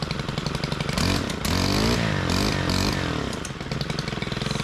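A four-stroke brush cutter engine that runs on mixed oil roars loudly and close by with a throaty, motorcycle-like drone, its pitch swelling and dipping as the throttle is worked, with no talk over it.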